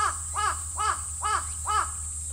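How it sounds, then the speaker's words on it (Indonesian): Crows over a vegetable garden give five harsh caws at an even, steady pace, set against a constant low hum. "ada burung gagak"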